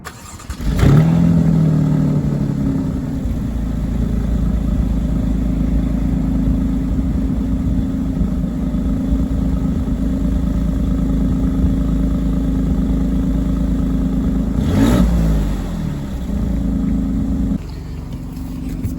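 A 2020 Alfa Romeo Stelvio Quadrifoglio engine blips, then holds a steady, loud exhaust drone that rises again briefly near the end, heard up close with no talking.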